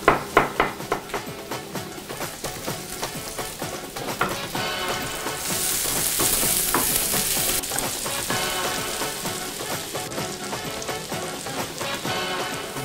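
Onion and garlic fry in a pan, giving a close, continuous crackling sizzle with scattered pops and light tapping early on, steady throughout with no voices.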